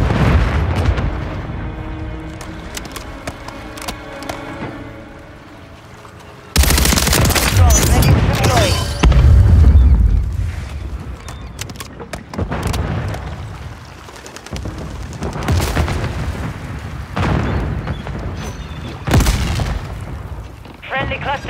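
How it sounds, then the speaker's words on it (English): Explosions and heavy gunfire from a Call of Duty match, with a deep cluster-mine blast burst among rapid fusillades and booms, loud and dense, layered under game announcer voice callouts. "Friendly cluster mine destroyed."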